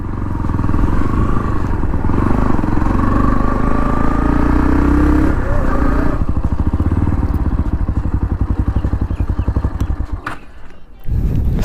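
Bajaj Pulsar NS 160 motorcycle on a group ride with other bikes, engine droning loudly and steadily close by, then a rapid pulsing exhaust beat after the bike slows, with wind and occasional clatter.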